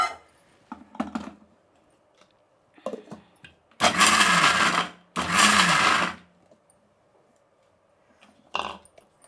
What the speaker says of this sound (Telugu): దీన్ని మిక్సీ పట్టేస్తాం